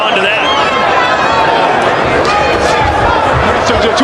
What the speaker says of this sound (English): you can hear the crowd respond to that